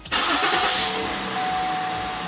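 Mazda CX-9 engine after new spark plugs and ignition coils for a misfire: a short starter crank catches and fires straight into a loud, steady idle heard up close.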